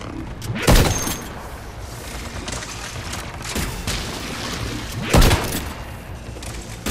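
Gunfire in the video game Mass Effect 3: a few sharp, loud shots spaced seconds apart over steady combat ambience, with voices speaking in the background.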